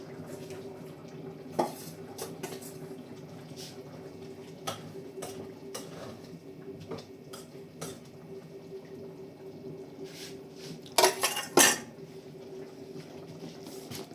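Chopped herbs go into a pot of boiled young potatoes, giving scattered light clinks and scrapes of a spoon against the pot over a quiet steady background, with two louder clattering knocks near the end.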